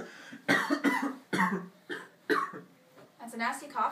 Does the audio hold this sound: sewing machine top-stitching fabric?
no